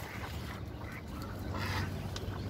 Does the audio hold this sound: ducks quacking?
yes